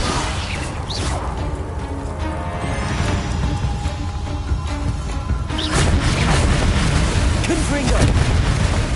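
A Confringo blasting spell fired in Hogwarts Legacy, sharp booming blasts with crashing debris and whooshes over a rumbling battle bed, loud and close, with a voice speaking through the action.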